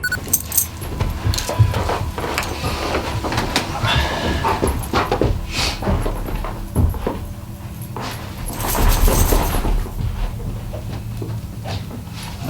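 A couple of dogs inside a hotel, giving short whimpers and yips amid jangling and shuffling noises, close and busy throughout with occasional thumps.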